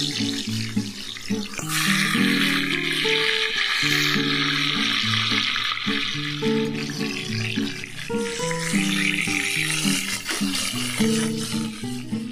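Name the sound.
fish heads frying in hot mustard oil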